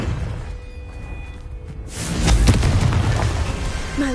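A Confringo fire-blast spell cast in Hogwarts Legacy lands as a loud booming explosion about halfway through, following a quieter stretch of ambient sound, with a crackling rumble trailing off afterward.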